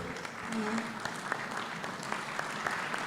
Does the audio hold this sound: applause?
yes